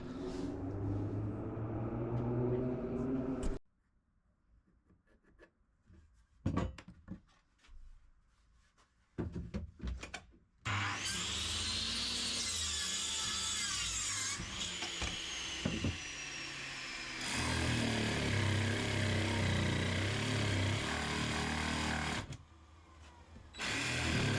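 Wooden common rafters for a DIY roof being cut with a power saw, long loud sustained cutting bursts separated by quieter handling knocks and thumps, close by.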